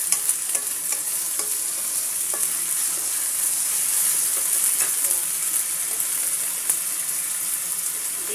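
Ginger-garlic spice paste for beef khichuri being stir-fried in a pan, a steady loud sizzle running throughout with small scraping stirs of a spoon ticking through it.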